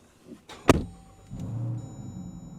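The rear lid of a 2025 Dodge Durango Hellcat swings down and shuts with a single sharp, close thud, followed by a low, steady electric motor hum.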